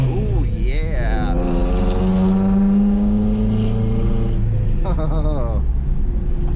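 An old car undergoing a will-it-run revival pulls away as its clutch engages, the engine revving and rumbling up and down under excited talk, with a droning tone that rises and falls.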